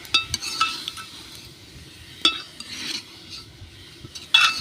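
Cauliflower curry with chopped coriander and fenugreek stirred in a pan: a spoon scraping and clinking against metal in irregular strokes over a faint sizzle, close and fairly quiet.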